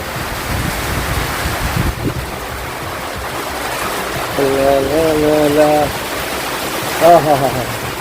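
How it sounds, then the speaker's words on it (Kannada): Heavy rain and gusting wind in Jamkhandi rush together in a steady loud hiss, while a voice speaks briefly in the middle and again near the end. "ನೋಡ್ರಿ ಹೆಂಗೆ ಬರಾಕತೈತಿ ಮಳೆ"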